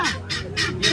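A guinea fowl calls in four loud, harsh, rhythmic bursts, close by and with no talking over them.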